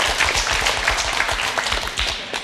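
Studio audience applause on a German TV interview show, moderately loud with individual claps audible in a quick irregular rhythm, thinning slightly toward the end.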